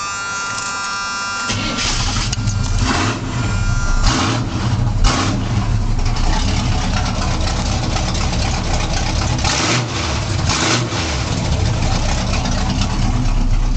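A Chevy K10 one-ton truck engine with no headers fitted cranks and fires, then settles into a loud, raw, uneven idle with a few revs, close by and alone.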